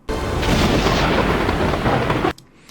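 Thunderstorm spell cast by Poseidon in Total War Troy: a loud, dense roll of thunder and storm rumble that holds steady for about two seconds, then cuts off abruptly, leaving a quiet tail.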